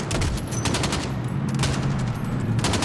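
Sustained automatic gunfire rattles at a pickup truck in Call of Duty Modern Warfare, loud and continuous bursts close up, with no voices over it.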